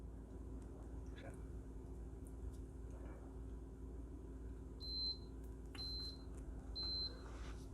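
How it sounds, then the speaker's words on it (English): Three short high-pitched electronic beeps from a Cosori electric kettle reaching temperature, spaced about a second apart, heard over a low steady hum with faint clicks earlier on. "the beeps occur again because it's at that temperature"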